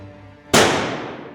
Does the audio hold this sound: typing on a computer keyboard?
no